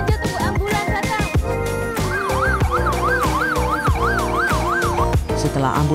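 An ambulance siren wails loud and close in a steady rising-and-falling sweep as the emergency vehicle arrives, layered over other tones and traffic noise.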